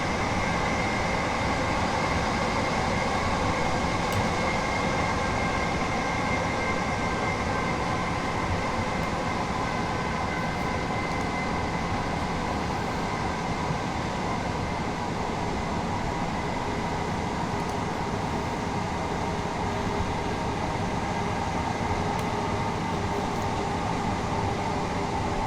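Steady train running noise from Train Sim World on the East Coastway Line near Eastbourne, a continuous rumbling drone with wheel-on-rail texture and a faint hum, heard from inside the cab throughout with no talking.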